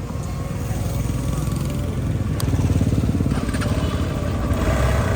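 A freshly washed motorcycle with a newly fixed exhaust pipe runs at a steady, throbbing idle close by, its low engine pulse continuous and rising slightly in loudness partway through.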